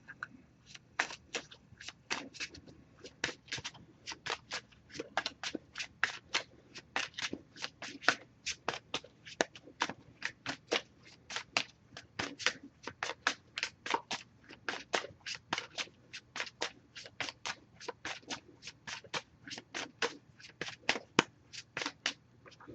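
An oracle card deck is shuffled over and over in quick crisp riffling bursts, a steady rhythmic patter of card flutters played up close at moderate volume without voices.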